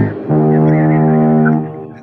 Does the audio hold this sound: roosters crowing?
no